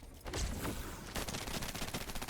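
A demonic shotgun in a first-person video game fires in a rapid, sustained burst, the blasts running together into a loud, continuous stream of gunfire with no voices.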